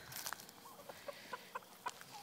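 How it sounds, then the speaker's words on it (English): Farm hens give several short, soft clucks in quick irregular bursts, faint and close, with no speech. "And all the hens running over to the grass so they can find bugs."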